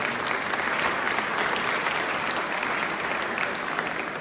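A room full of guests at an air show dinner gives a sustained round of applause, thick and even clapping that stays loud throughout.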